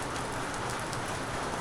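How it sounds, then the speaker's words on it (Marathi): Heavy monsoon rain pours down in the Konkan region, a dense, even hiss of countless drops landing on surfaces, steady and close with no voices. "बाहेर पडलो आणि पाऊस चालू झाला पुन्हा"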